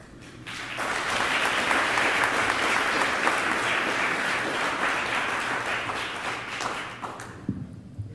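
An audience at a Black Caucus of California Community Colleges gathering applauds itself, a dense, steady wash of many clapping hands that builds quickly, holds for several seconds, then thins out near the end.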